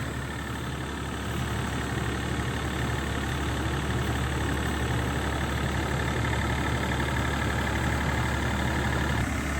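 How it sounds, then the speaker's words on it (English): A steady tractor engine drones throughout at an even, moderate level, a continuous low rumble with no pauses and no voices, while out foliar spraying trees. "on his new shiny tractor"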